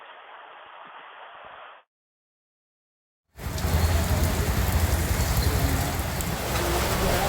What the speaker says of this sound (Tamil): இப்ப பாத்தீங்கன்னா கடுமையான காற்றுடன் கூடிய கனமழை கடந்த 1 மணி நேரத்துக்கு மேலாக பெய்து வருகிறது